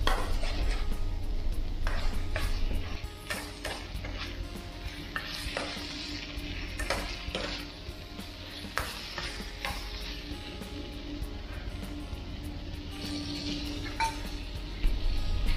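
Ampalaya con carne with oyster sauce stirred in a pan, a steady close sizzle under repeated clinks and scrapes of the utensil against the pan, with no talking.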